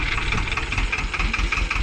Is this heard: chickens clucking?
no